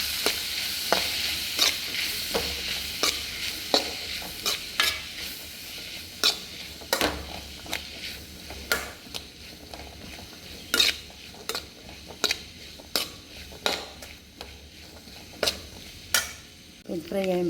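Masala powder mix with Maggi masala stirred and frying in a pan, a soft continuous sizzle broken by regular sharp scrapes and clinks of a spoon against the pan, close and alone without talk.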